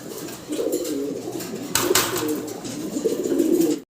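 Fancy owl pigeons coo in a low, steady murmur from close by for nearly the whole stretch, the soft rolling calls overlapping with a brief brighter rustle partway through.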